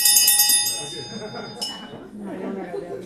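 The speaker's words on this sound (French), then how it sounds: "Après 3 minutes, même si la chose est intéressante et qu'on souhaiterait qu'il poursuive, la cloche va sonner." A bright bell rings sharply at a televised candidates' debate, marking the end of speaking time, its metallic ring decaying over a second before voices and room murmur take over.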